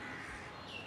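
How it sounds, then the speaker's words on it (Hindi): A crow caws once against a steady hiss of background noise, fairly faint and with no voices. "ये तो कौवा बोला।"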